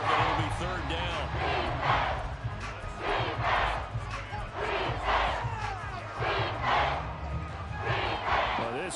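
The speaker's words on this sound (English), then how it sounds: "this crowd is making an impact right now" Roaring football stadium crowd at an NFL game, Lions at Texans, a loud sustained wall of noise with rising swells and shouts, under a commentator's voice talking throughout.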